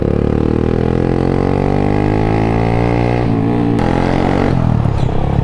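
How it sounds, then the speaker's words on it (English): A motorcycle riding through traffic makes a loud, close engine whine. The pitch climbs steadily through the gears, drops at a shift, and then rises again, with a brief clatter in the middle. Nobody talks over it. "going on my bike and chilling out"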